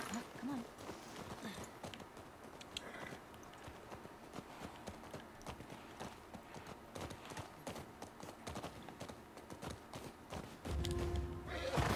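Hooves of horses in The Last of Us Part II clip-clop at an unhurried walking pace, soft and fairly distant, with a few thuds and a brief snort near the end.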